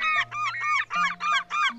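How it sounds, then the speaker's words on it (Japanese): Gull calls from a shoreline bird-identification recording: a series of about six loud, harsh nasal cries in quick, even succession, heard alone without talk. "確かにカモメの声だ。"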